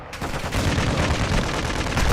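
Sustained heavy gunfire in the shooter Call of Duty: Modern Warfare II, a dense continuous barrage of automatic shots and booms, loud and close, with no pauses across the stretch.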